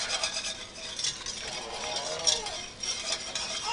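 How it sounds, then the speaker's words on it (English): A pan is deglazed with water or chicken broth while cooking honey Dijon chicken, heard as a steady soft hiss with light utensil scraping and stirring close by, no talking. "we'll use that to deglaze our pan and get all those yummy bits off"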